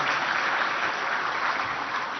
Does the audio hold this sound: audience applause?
yes